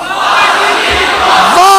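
A large crowd at a religious sermon gathering chants slogans in loud, massed unison, roaring close and full for the whole moment.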